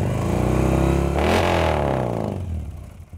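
A Porsche 911-era sports car with a straight pipe exhaust revs hard, a loud, raspy engine note that swells, peaks and trails off over a few seconds with no talking.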